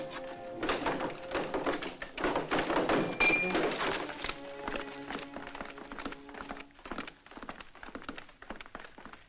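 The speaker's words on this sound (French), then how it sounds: "Enfoncez la porte, enfoncez la porte." Heavy thuds and knocks of a door being forced in, in a dramatic scene from a film set in ancient Sparta; repeated irregular blows, fairly close, with tonal music-like hum beneath and no talk.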